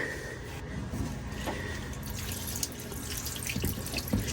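Water trickles and splashes steadily from a leaking boat shaft seal, a constant running flow with faint drips, and no voices.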